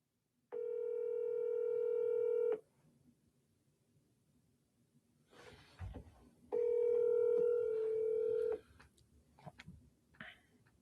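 Outgoing phone call ringing: two long, steady ringback tones about two seconds each, separated by a gap of faint handling clicks and rustles, with more small clicks after the second ring.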